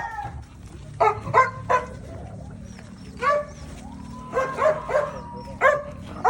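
Several dogs at a gamefarm bark and yip in short bursts around a large python, some louder and closer than others, with whimpering between barks over a low background hum.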